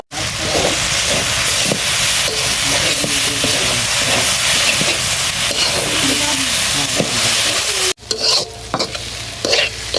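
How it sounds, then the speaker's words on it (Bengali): Jute leaves sizzle and fry steadily in a pan with occasional stirring scrapes, a continuous close hiss that briefly cuts out near the end before resuming more unevenly. "পাট শাক ভাজি করে নামার হয়ে গেছে"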